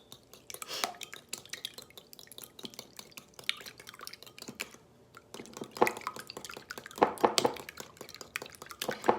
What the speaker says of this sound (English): I want to beat this up some with my little mini whisk